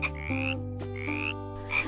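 Frogs croaking in repeated rising calls, several close, clear croaks in steady rhythm near a dense forest, with no voices.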